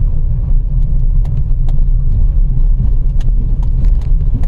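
Steady, loud low rumble of a car engine and road noise from inside a vehicle driving through the Mohan tiger area, continuous with faint clicks and rattles, no talking.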